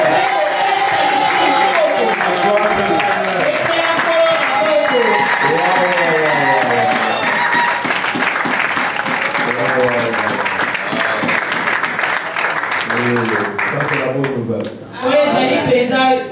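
Congregation in a church applauding and acclaiming the Lord: sustained loud clapping mixed with shouts and voices from a crowd, continuous for most of the stretch before thinning near the end.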